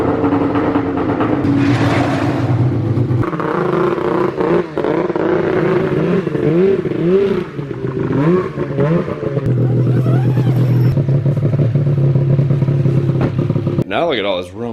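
An old snowmobile that sat unused for over seven years cranks and fires up, its engine running loud and rough with uneven revving and clattering throughout, close by.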